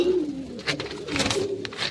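Kept pigeons coo close by, low soft throaty calls repeating in short phrases with some light rustling around them.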